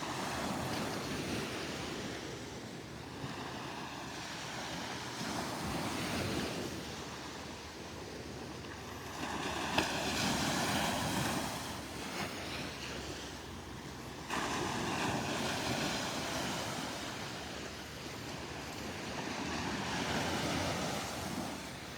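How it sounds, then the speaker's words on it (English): Gentle ocean waves washing onto the beach at Delnor-Wiggins in the morning, a soft steady surge with repeated swells rising and falling over about twenty seconds, no voices. "I love just stopping for a minute and listening to the waves."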